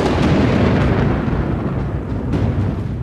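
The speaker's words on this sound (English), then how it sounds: "As the afternoon wears on, a storm begins to brew." Thunder from a brewing afternoon storm rumbles as a continuous low, dense roll, loud and close throughout with no voices.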